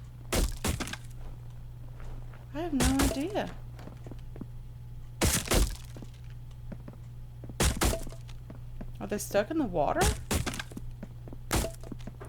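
Infected creatures bang and break things in The Infected survival game, loud sharp cracking thuds at irregular intervals over a steady low hum, with a person talking between hits.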